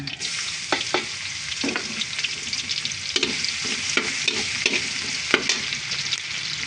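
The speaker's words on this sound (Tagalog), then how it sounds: "dito po tayo sa mantika niya magigisa ng bawang" Garlic sautéing in rendered pork fat for Filipino pakbet, a steady loud sizzle with intermittent scraping stirs and clinks of a utensil against the pan, no voices.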